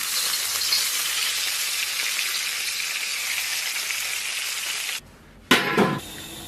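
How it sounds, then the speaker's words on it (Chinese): Hot oil poured over garlic paste, chili powder and sesame seeds gives a loud, steady sizzle close by, then cuts out abruptly before a short sharp crackling flare and a quieter fizz. "再给它浇上热油"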